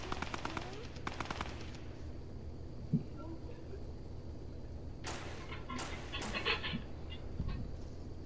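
Rapid automatic gunfire from the video game Fortnite crackles in two dense bursts, one at the start and another a few seconds later, with a quieter stretch of background between them.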